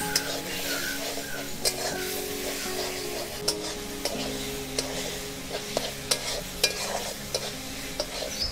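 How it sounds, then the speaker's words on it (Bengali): Fried prawns being stirred into a Bengali village-style yogurt curry, with a steady sizzle and repeated scraping clinks of the spoon against the pan, close and continuous. "এবার আমি এতে ভেজে রাখা চিংড়ি মাছগুলো দিয়ে দিচ্ছি।"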